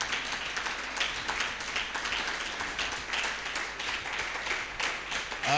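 Congregation applause at a church worship service, a steady, dense wash of clapping from a crowd that runs evenly throughout without pause.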